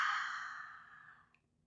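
A slow, audible exhale through the mouth during a gentle yoga session, a single soft breath fading out over about a second and a half, close and quiet with no talking.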